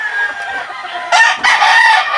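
Laying hens cluck steadily on a farm while a rooster crows loudly over them near the end, two strong bursts rising above the flock's continuous chatter.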